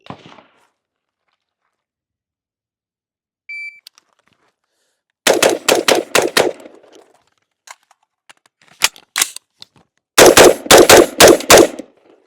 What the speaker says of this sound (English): On the beep, I'm going to turn, engage the targets left to right, perform a reload, and then right to left.